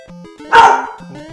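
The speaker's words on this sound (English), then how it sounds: "Shut up, dog!" A dog barks once, loud and close, over a chiptune melody from the Super Mario Bros. Deluxe game on Game Boy Color.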